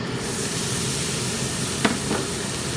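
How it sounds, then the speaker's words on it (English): A steady crackling sizzle of vegetables frying in hot oil on a Wood Stone gas plancha, close and continuous, with a couple of brief sharper spits. "Watch the sizzle."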